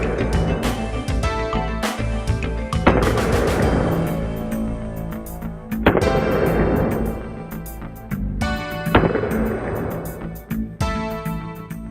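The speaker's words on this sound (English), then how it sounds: "The tight grouping of the shots is almost counterproductive as the rounds pile up on each other." Handgun rounds striking a DCI bullet resistant door, shown as a replay: several loud, sharp reports a few seconds apart, each with a long ringing decay, mixed with smaller clicks and knocks and no talking.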